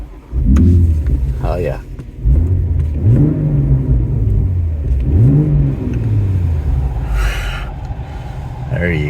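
A BMW M240i's engine revs hard several times in quick succession, loud and close, each burst climbing and falling back, while someone speaks briefly over it.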